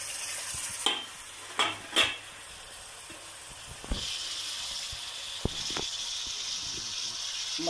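Tomato being stirred into frying soybean dum biryani masala in a pan, with a few scraping spoon strokes and soft clatters over a faint, steady sizzle that rises slightly partway through, quiet overall with no talking.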